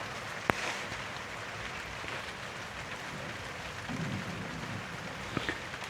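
Heavy rain on a small farm falls as a steady, faint wash of hiss, broken by a couple of sharp drip-like clicks and a low rumble partway through; no voices.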